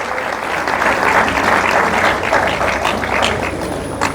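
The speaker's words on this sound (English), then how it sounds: "Can we have a round of applause for them?" Applause from a colloquium audience at the University of Calabar's 50th anniversary, dense sustained clapping from a large crowd filling the hall, steady and loud throughout.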